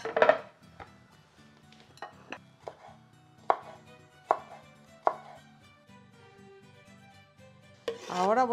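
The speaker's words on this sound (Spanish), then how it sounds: "Ahora voy a picar 3 chiles serranos." A knife chops three serrano chiles on a board: sparse, crisp taps arrive one by one at irregular intervals, close and clear, and a brief scraping sound comes at the end.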